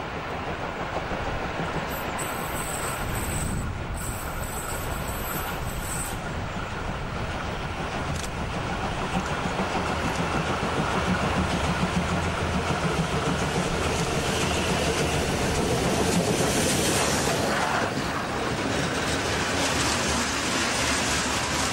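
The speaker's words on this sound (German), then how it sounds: "Die Leipziger 52 81 54 muss den langen und schweren Zug schleppen." Steam locomotive 52 8154 from Leipzig hauling a long, heavy coal train of about 2000 tonnes through Zeitz, a loud continuous rumble of rolling wagons and working engine building steadily, no talk.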